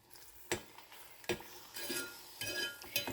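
Sweet potato halwa with sugar is stirred in a pan, with a spoon scraping and clinking against the metal in several separate strokes, moderately quiet, with no voices.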